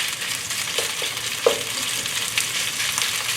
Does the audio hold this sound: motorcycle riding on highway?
no